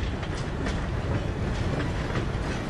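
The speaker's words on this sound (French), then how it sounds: "On va arrêter la locomotive" A locomotive train runs in the video game Red Dead Redemption 2, a dense, steady rumble with rhythmic clickety-clack of wheels on rails, loud and continuous.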